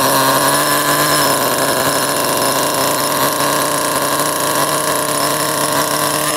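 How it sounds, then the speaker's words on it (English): A 1/10 scale nitro RC engine runs at a steady, buzzing drone throughout, loud and close, with a constant high whine and no talking. "when you first start the engine, you wanna cover the exhaust, pull it a few times, prime the engine, okay, and then let go"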